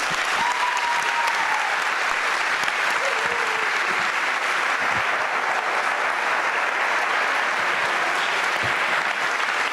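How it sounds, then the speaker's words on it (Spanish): Steady, dense applause from an audience at a book presentation fills the whole stretch, loud and continuous with no voices over it. "Así que les pido que reciban con un fuerte aplauso a Carolina Miguélez."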